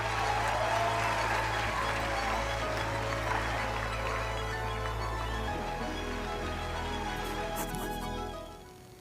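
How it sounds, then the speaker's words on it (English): Steady audience applause fills a hall at a community event, dense and continuous for most of the stretch, with a low hum underneath before fading near the end. "Please give yourself a round of applause."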